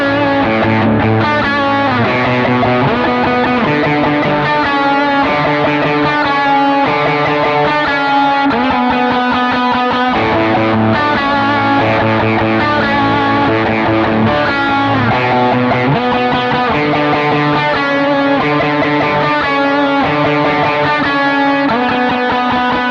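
Electric guitar played through heavy overdrive and distortion with a worship-style tone, dense sustained chords ringing loud and continuous throughout, with no talking.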